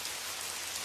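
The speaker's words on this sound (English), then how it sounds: "Rain began to fall," Steady rain falls at night, a soft, even hiss of drops spread across the whole clip with no pauses or other sounds on top.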